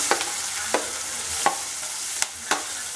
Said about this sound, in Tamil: இது எல்லாத்தையும் ஒன்றாவே நல்லா வதக்கிக்கலாம்